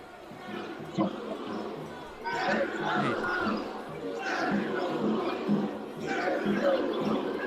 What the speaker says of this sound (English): People shaking the fence still. Swinging at it. Beating it. Chanting, "Feds go home, feds go home."